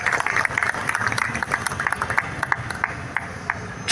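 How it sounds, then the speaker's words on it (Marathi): A lecture audience breaks into sustained, dense applause, many hands clapping at once with steady loud texture and a few sharper bursts throughout. "एकदा जिजाऊसाठी टाळ्या वाजवा"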